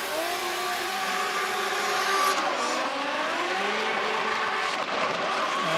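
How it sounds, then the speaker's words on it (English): A BMW drift car at a qualifying run of an international drifting cup in Riga races through corners, its engine roaring with tire squeal at a steady distance, with loud pops and bangs. "Lots of pops and bangs and loud noises coming from his BMW 46."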